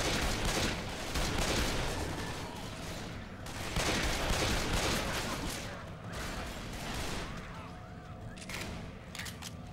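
Rapid gunfire crackles in dense bursts during zombie-shooter gameplay in Left 4 Dead 2, shots overlapping into a continuous barrage with a little talk beneath.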